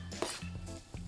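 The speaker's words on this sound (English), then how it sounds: "and just stir it all together." Vegetables are stirred while frying in a pan, a utensil clinking and scraping against the metal in a few sharp knocks over a low sizzle, close and fairly quiet.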